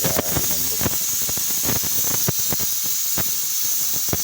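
A pot of Filipino beef stew (nilagang baka) with potatoes simmers on the stove, giving a steady hiss of steam and bubbling with scattered sharp pops and clicks, close and continuous with no talking.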